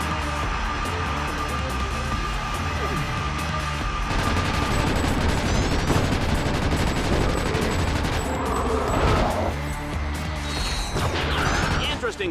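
Gunfire aimed at grind rail calibration orbs in the game Deadlocked, a busy stretch of rapid shots, crashes and impacts that grows louder partway through, with an announcer talking over the action.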